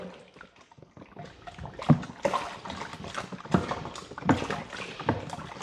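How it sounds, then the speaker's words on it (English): Liquid stirred in a home-brewing fermenter while making a Coopers pilsner kit, irregular sloshing and swishing with soft knocks, close and fairly quiet, no voices. "Okay, so now I'm just going to give it a light stir."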